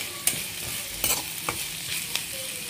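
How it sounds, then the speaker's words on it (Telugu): Onions and green chillies fry on a medium flame in a pan, a steady close sizzle broken by several sharp stirring scrapes at irregular moments. "మొత్తం మీడియం ఫ్లేమ్లో పెట్టి ఫ్రై అయ్యేంత వరకు వెయిట్ చేద్దాం."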